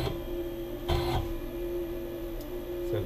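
A CNC 6040 router spindle runs with a steady high whine under low mechanical hum while the X axis moves, with a couple of brief louder bursts.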